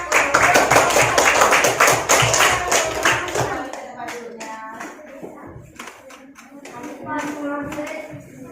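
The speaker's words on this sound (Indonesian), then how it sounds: "Ayo, tepuk tangan." Elementary school children in a classroom clap their hands in a quick, bright burst of close applause for a few seconds, then it fades and someone speaks over faint background noise.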